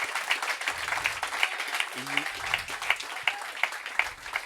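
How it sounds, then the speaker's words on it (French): A church congregation claps at an evangelistic service, the applause coming as rhythmic, evenly spaced beats with a steady crowd wash beneath and a voice speaking over it. "Give the Lord a better clap"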